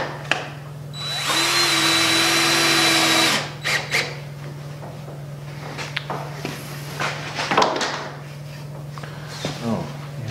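A power drill drives screws into wood during an ice hut build, with one long sustained whir followed by short bursts, scrapes and knocks from handling the boards, and people talk nearby.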